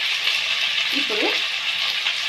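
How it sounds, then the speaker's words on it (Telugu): Potato pieces added to softened onions fry in a pan with a steady bright sizzle, with a brief stirring scrape in the middle and no voices. "ఉల్లిపాయ వేగాక కోసి కడిగి పెట్టుకున్న బంగాళదుంప ముక్కలు వేసుకుంటాం."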